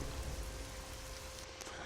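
Steady rain falls in Fallout: New Vegas, a faint, even hiss of dense drops with no break across the short stretch and no voices.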